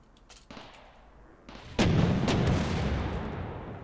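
Turrets fire guns at zombies in the video game RimWorld: a few faint shots, then a loud booming blast that decays into rumbling, with no talking.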